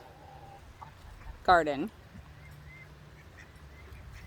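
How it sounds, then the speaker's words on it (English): Farm birds work their way into a vegetable garden, with a single loud, close quacking call standing out briefly over quiet outdoor background while a voice speaks. "The birds are starting to work their way in."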